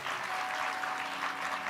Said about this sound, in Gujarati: ફૂલકરના બહેનો માટે તાળીઓ વગાડી આપણે